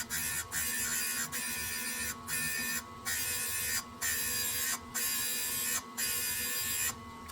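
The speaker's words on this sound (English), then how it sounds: "So just starting to cut the exhaust valve, you can see where the seat's just barely contacting the stone" A stone grinder cuts the exhaust valve seat in a 1976 Porsche 930 Turbo cylinder head, a steady high-pitched buzzing whine broken by about eight brief pauses at regular intervals, close and loud with no talking.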